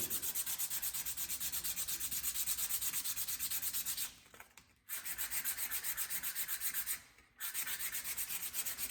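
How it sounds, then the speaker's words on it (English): A wooden hammer handle is sanded with 80-grit sandpaper to strip off its varnish, giving a loud, rhythmic rasping of rapid back-and-forth strokes that breaks off in two brief pauses. "So we'll go ahead and get this guy sanded down. Pull all the varnish off is what I'm trying to do."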